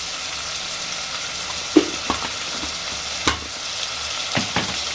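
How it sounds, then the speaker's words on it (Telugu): Sliced onions with a little salt fry uncovered in a pan for mutton keema biryani, a low continuous sizzle punctuated by several sharp spatula knocks and scrapes against the pan, no voices. "ఉల్లిపాయలు మంచి రంగు వచ్చే వరకు వేయించుకోవాలి."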